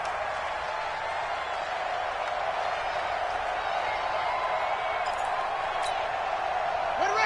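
A stadium crowd in an American football video game on PS4 roars steadily, a constant broad wash of cheering noise that holds level throughout.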